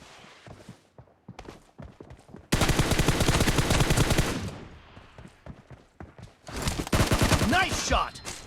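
Rapid automatic gunfire from a shooting video game plays in loud sustained bursts, with shorter scattered shots and game announcer callouts around them.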